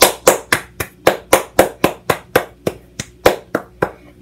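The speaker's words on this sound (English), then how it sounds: "Everyone, give a round of applause to God for telling us his good story." Single pair of hands clapping alone, about sixteen sharp, evenly spaced claps in a steady rhythm, close and loud with nothing else audible.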